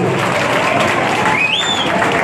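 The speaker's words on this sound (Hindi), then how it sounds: "जोरदार तालियां आपकी होनी चाहिए" A crowd at a street welcome rally for minister Dada Bhuse in Malegaon claps in a dense, continuous wash, with a rising whistle cutting through midway and voices faintly under it.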